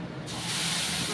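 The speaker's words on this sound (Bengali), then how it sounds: "এরকম কালো জিরে ফোড়ন দিচ্ছি।" Black cumin seeds hit hot oil and sizzle into a steady, loud hiss that starts at once and keeps going through the moment.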